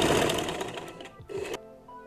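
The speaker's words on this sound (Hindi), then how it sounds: "ऐसे ही सारी पट्टियों को स्टिच कर लेंगे।" A sewing machine stitches fabric strips for trousers, giving a close, steady motor whir that runs for about a second and a half before cutting off.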